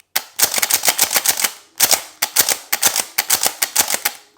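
An HPA-powered airsoft shotgun firing rapid snapping shots in quick regular bursts, loud and close, with a short pause between strings of shots.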